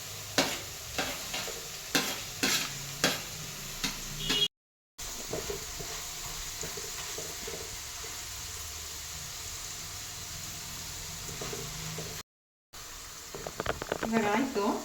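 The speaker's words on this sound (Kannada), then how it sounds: "ಸೊ ನಾನು ಡಬಲ್ ರೋಸ್ಟ್ ಮಾಡ್ತಾ ಇದ್ದೀನಿ." Food being double-roasted in a pan for crispness, with stirring scrapes and clicks early on and then a steady sizzle of frying, briefly cut out twice.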